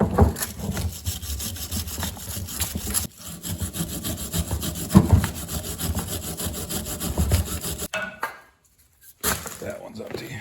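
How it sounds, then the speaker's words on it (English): A hand-style wire brush scrubs a grimy metal surface after brake cleaner, making rapid, loud rasping strokes in steady back-and-forth bursts that break off for a moment before continuing. "we're going to use a hand style wire brush on here"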